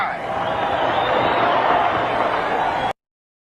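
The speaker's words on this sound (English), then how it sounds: "You got crowds cheering" A crowd in an old recording of a Rutherford speech cheers loudly, a sustained, roaring wash of many voices for about three seconds before stopping abruptly.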